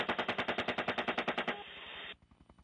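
Bursts of machine gun fire during a wartime combat engagement, a rapid rhythmic string of loud close shots that breaks off into a steady hiss, then fades to quiet.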